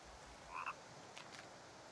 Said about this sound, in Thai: เฮ้ยมีกบด้วยเหรอ